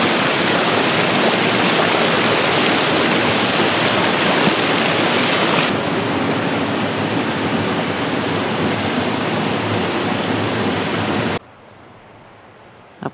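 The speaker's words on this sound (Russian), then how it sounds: "Обхожу водопад" A mountain waterfall on the Sobolokh-Mayan river in the Verkhoyansk Range roars steadily as a loud, dense rush of falling water, constant and close, then cuts abruptly quieter near the end.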